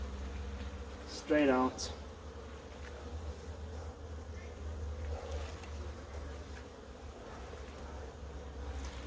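Honey bees buzz continuously around a lifted hive frame, a close, steady insect drone with a brief louder pass near the microphone and a person speaking briefly over it.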